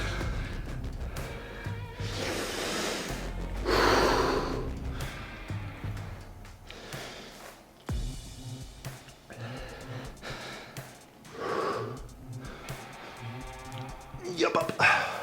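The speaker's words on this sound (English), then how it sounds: "Sorry about all the loud breathing." Loud, close heavy breathing from a person during a dumbbell upper-body workout: repeated forceful exhales, gasps and sighs into a nearby microphone, with brief talk mixed in.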